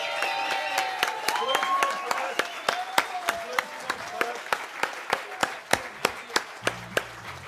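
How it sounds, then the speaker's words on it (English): Sparse, scattered handclaps from an outdoor festival audience after a fireworks show, sharp separate claps rather than a full ovation, with faint tonal sounds and crowd murmur beneath. "I hope we can all muster up a round of applause for Glenn, who put the fireworks on tonight"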